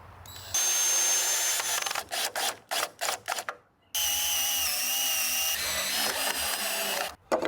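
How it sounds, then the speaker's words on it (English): A power drill whines in long bursts and short stuttering pulses while driving screws into the 2x4 corner framing of a cabin built on a trailer, loud and close, with a brief pause between runs. "I decided I was going to have to pre-drill and screw in every single corner of this entire cabin"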